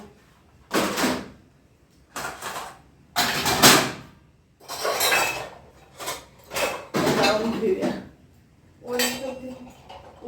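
Dishes and utensils clink and clatter in bursts as they are scrubbed and handled, loud and close, with short pauses between.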